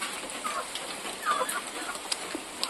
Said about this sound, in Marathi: हे बघा कोंबडी पण तिथलेले आहेत पाण्यामध्ये